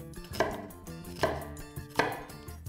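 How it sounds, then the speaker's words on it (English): A knife slices through an onion on a cutting board in three distinct, evenly spaced chops, close and crisp, with no talking. "And then you're going to slice without slicing your fingers."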